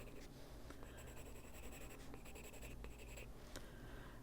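Colored pencil scratching on paper in close, quiet strokes, a dense run of short rhythmic rasps with brief pauses between bursts of shading, heard alone.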